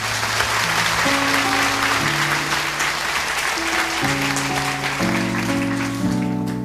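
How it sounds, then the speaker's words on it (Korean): A church congregation applauds steadily at Pastor Kang Seong-un's commissioning service, a dense, even wash of clapping that lasts throughout, with sustained musical notes playing underneath. "박수 한번 좀."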